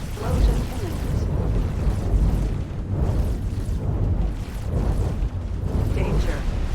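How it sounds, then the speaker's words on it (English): An enemy ship explodes in a space video game, a dense rumbling roar of blasts and mechanical crunching that stays loud and continuous, with talking blended in. "Explosion imminent."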